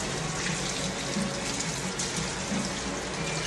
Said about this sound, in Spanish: Primero preparamos el agua que esté tibia, como para que no tenga ni mucho frío ni tan caliente tampoco